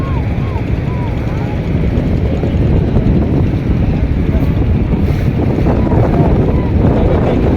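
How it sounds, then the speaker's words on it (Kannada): Steady engine drone of a boat moving along the Ganges at Varanasi, continuous and fairly loud, with wind buffeting and faint voices underneath. "ಬೋಟ್ನಲ್ಲಿ ಪ್ರಯಾಣವನ್ನು ಮಾಡ್ತಾ ಇದ್ದೇವೆ"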